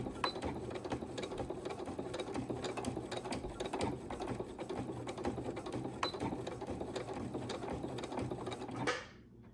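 A sewing machine runs steadily, stitching a fabric rod pocket onto a worship flag, going back and forth over the seam in a continuous dense mechanical whir that stops abruptly near the end.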